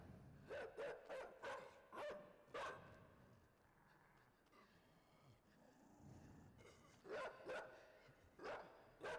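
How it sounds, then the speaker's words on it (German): A dog in the video game Inside barks repeatedly in quick bursts, loud and fairly close, with a quieter stretch of low rumbling ambience in the middle before the barking returns. "Der Hund wittert, dass wir nicht dazugehören"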